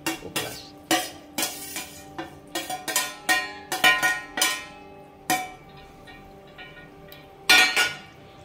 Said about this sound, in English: the last step is to add the okras